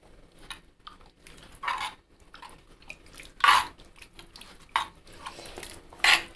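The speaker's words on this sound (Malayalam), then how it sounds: "ഇനി സ്പൂണ് കൊണ്ട് ഇളക്കാം." A spoon stirs Angamaly-style mango curry cooked in coconut milk, giving irregular close scrapes and sharp clinks against the pot, some louder than others, with no voices.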